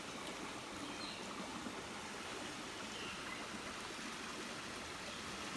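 Prospecting river flowing steadily nearby, a constant broadband rush of moving water with no breaks, no voices, and no other sounds.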